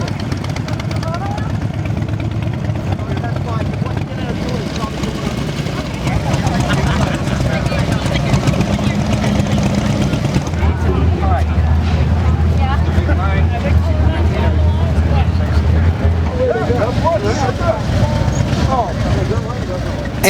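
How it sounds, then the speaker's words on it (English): Motorcycles roll in for the 2015 Gregg Maloney memorial ride, a steady layered engine rumble with a deeper, louder drone swelling midway as more bikes arrive, with crowd noise mixed in. "And the motorcycles kept coming in."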